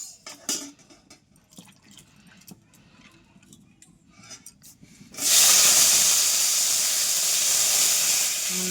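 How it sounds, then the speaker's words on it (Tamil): Oil in a wok on a hearth stove bursts into a loud, steady sizzling hiss about halfway through, after a stretch of quiet kitchen clatter and faint drips. "இப்போ வந்து எண்ணெய் ஊற்றிட்டாங்க வானலில்."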